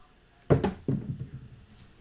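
Craps dice tossed onto a table for a live dice-setting session, giving a sharp clatter at landing, a second bounce, then a softer rattling roll that fades out, close and alone.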